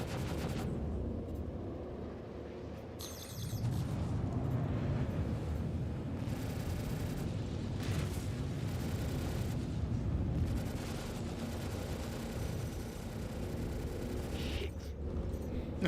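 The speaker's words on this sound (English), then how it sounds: "Target acquired. Missile out." Star Citizen space combat with a missile launch and explosions: a continuous loud rumbling roar with several sharp bursts and booms layered over it.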